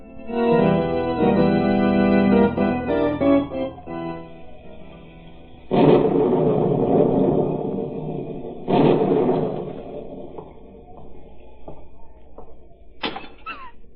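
A storm sound effect in a 1938 radio drama: music fades into two heavy rumbling thunder crashes a few seconds apart, followed by scattered sharper knocks and cracks.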